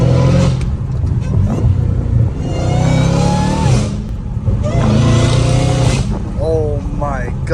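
A Dodge Hellcat Redeye fitted with catless pipes accelerates hard through third gear, a loud sustained engine roar with rising pitch sweeps and brief shift breaks, heard up close while people talk excitedly over it.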